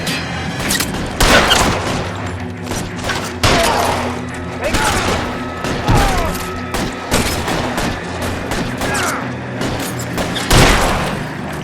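A shootout in L.A. Noire: heavy, booming gunshots fire in irregular volleys, loud and close, with thuds and echoing reports and faint voices mixed in between shots.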